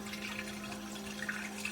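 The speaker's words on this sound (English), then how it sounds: "The sink's running." Water from a running sink flows through a sewer pipe, heard from inside the line as a steady, hollow rush with a faint low hum, continuous and alone.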